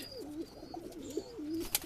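Pigeons of mixed breeds, including Madras, Kalshira, Shahjahanpuri and Kaldam, coo inside a flying cage loft, rolling low calls rising and falling continuously at a moderate, somewhat distant level with a brief sharp click near the end.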